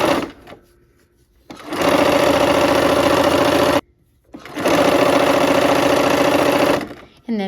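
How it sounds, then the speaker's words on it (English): A sewing machine stitches quilt seams in two long, steady runs of loud, close mechanical whirring, separated by a brief pause, with no talking over the stitching. "we're going to go ahead and sew those seams"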